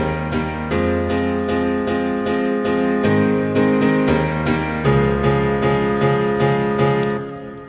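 Sustained Waves digital piano chords ring out in a steady sequence, full and layered, each new chord struck over the fading previous one before a final fade.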